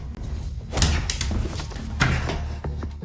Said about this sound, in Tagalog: Buksan ang pinto, buksan ang pinto, buksan ang pinto.